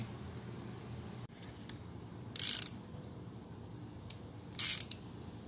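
A ratchet works loose the 15 mm bolts and stud nuts on a transfer case, giving two short, crisp bursts of clicking against a quiet background hum.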